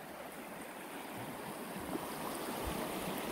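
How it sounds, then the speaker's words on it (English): Camp Creek, swollen after hard rain, runs past a five-acre wooded lot with a steady, even rush of flowing water, moderately close and unbroken, with no voices over it. "Just got done with the hard rain, so you can see the creek's flowing nice."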